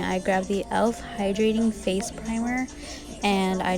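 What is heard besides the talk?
None of the usual background noises is heard.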